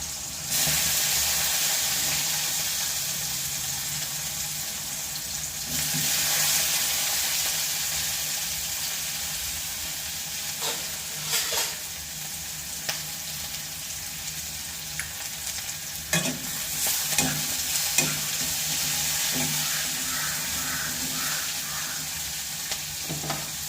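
Bitter gourd fries in oil in a pan on the stove, a steady sizzle running throughout, broken by repeated scraping and clinking as it is stirred close by.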